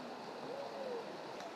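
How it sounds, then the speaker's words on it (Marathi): Flowing freshwater stream near Raireshwar Fort, a soft continuous rush of water heard faintly in the background with a brief trace of a voice. "पाठीमागे एक मस्त वाहता ओढा होता, एकदम फ्रेश वॉटर."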